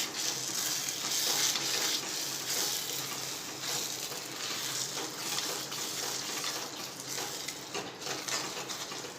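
An onion and paneer dungaliyu mixture is stirred in a pan, giving a steady, close sizzle with soft scraping and stirring noises throughout and no voices.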